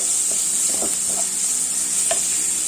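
Shallots and onions sautéing with ginger and garlic in a pan for a Kuttanad duck roast, giving a steady close sizzle with a few soft stirring scrapes.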